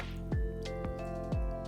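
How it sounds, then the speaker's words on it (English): Soaked seaweed squeezed by hand, several wet squishes and drips of water falling over a steady low hum, close and moderately quiet, with no voices. "I'm gonna gather some up with my hands. And then I'm gonna give it a nice squeeze"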